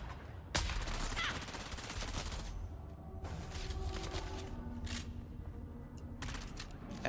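Rapid submachine gun bursts in the video game Dune: Awakening, fired in a few dense volleys separated by short pauses, with game ambience between them.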